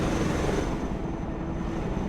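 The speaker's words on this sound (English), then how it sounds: "Helicopters are impressive machines. Boy, are they noisy." Helicopter engine noise from the video game Broken Arrow, a loud, steady turbine whine and rotor drone that holds constant and close throughout.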